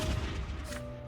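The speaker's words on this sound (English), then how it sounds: "A gunshot." Gunshot in the video game Sir Brante: a loud, heavy blast with deep booming low end and a sustained rumbling tail, without any talk over it.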